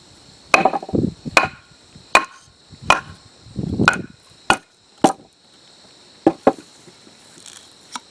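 Sharp metallic strikes ring out one after another as one hammer hits another, about a dozen irregular blows, some followed by thuddy knocks, loud and close with a steady high whine behind.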